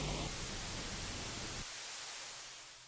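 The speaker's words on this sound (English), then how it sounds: "adding a ton of noise into the circuit" Broadband hiss from a vintage-era compression plugin fills the clip steadily, with a brighter, denser noise at first and a thinner, quieter texture after the midpoint, slowly fading toward the end.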